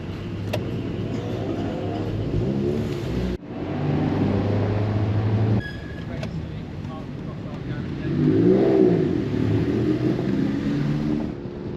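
A track car drives a lap of a race circuit, its engine droning loud and close with abrupt shifts in pitch as gears change, while someone talks over it.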